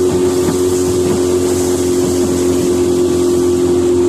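A Carolina Skiff J16 boat's outboard motor running at a cruising speed of about 23, producing a loud, steady drone with a constant hum and rushing water and wind noise throughout.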